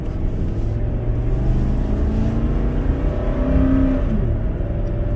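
A 2005 Ford F150 XLT pickup with the 5.4 Triton V8 accelerates at about half throttle while towing a light trailer on the freeway; a steady, loud low engine drone rises gradually in pitch, heard from inside the cab with no talk.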